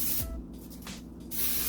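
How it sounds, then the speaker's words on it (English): Baking spray hissing from an aerosol can into a bundt pan for a chocolate pound cake, two broad spray bursts near and fairly loud, each a fraction of a second long, with a brief pause between them. "I'm just going to use this baking spray. That's what I'm going to use to spray it with."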